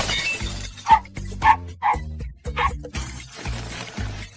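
A dog gives a handful of short, evenly spaced barks, fairly close and clear, with a low rumbling bed of background sound running underneath.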